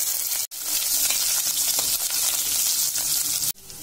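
Green chillies, curry leaves and crushed ginger dropped into hot oil with cashews and spluttered mustard seeds, giving a steady, loud, close sizzle with brief dips near the start and end.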